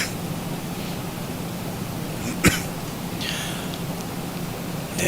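A single sharp cough bursts out once midway, loud against a steady hum of flight-deck noise in a home cockpit set up for an X-Plane 12 Boeing flight.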